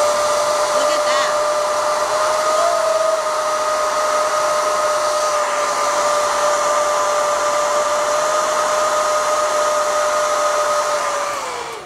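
A hair dryer blows hot air onto eyelashes during a makeup session, a steady loud whine with a sustained tonal hum running unbroken for about twelve seconds.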